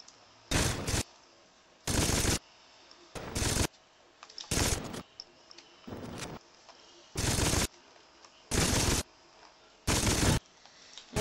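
Automatic gunfire in the video game Saints Row 2 comes in about eight loud, evenly spaced bursts, each a dense rattle of rapid shots separated by short quiet gaps.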